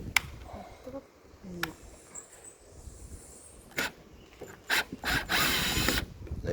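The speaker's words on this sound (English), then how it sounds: "let's use the ratchet to get these to be faster." A ratchet wrench loosens fan bolts during an overheating repair on a PT6, with scattered sharp clicks and knocks followed by a longer burst of rapid ratcheting near the end.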